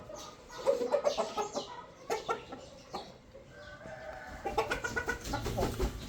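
Several hens cluck and squawk in short, irregular bursts at close range over a steady farmyard background, with a brief quieter stretch in the middle.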